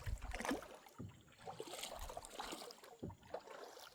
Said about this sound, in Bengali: নৌকাটা বেয়ে আমরা অনেকটা পথ চলে আসলাম।